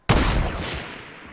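Gunfire in Fortnite during a squad match: a sudden sharp burst of rapid shots hits loud at the start, then rings out in a decaying echo over about a second.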